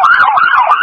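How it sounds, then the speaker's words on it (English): A police car siren wails during a sheriff's office pursuit, a loud continuous sweeping tone heard up close with no talking over it. "Hear your siren."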